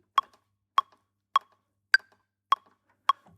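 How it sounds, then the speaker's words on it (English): Six crisp metronome clicks in Ableton Live tick at a steady, even pace, one slightly higher-pitched accent among them, with silence between each beat. "If I switch on the metronome, you can hear that already."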